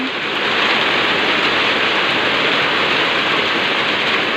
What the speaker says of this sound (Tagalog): Malakas din po ba ulan?